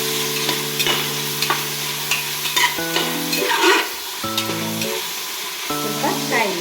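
Tomatoes, onion, peppercorns and spices sizzling and being stirred in a pan for homemade chicken biryani, a steady hiss with repeated scraping stirs close up, while a melodic tune plays throughout.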